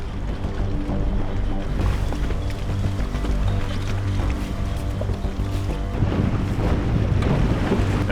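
A navy diving team's boat heads out to sea, its engine droning under heavy wind noise and rushing water, loud and continuous throughout with no speech.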